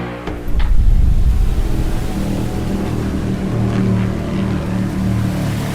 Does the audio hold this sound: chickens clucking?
no